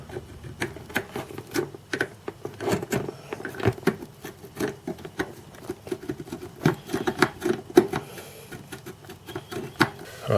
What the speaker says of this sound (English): just unplug and plug this in a few times